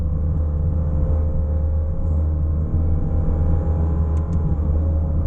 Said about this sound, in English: So we'll downshift here, give her a little more.